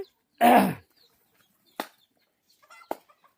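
Desi chickens in a netted backyard poultry enclosure give one brief burst of wing flapping, followed by a couple of faint, sparse clucks in otherwise quiet surroundings.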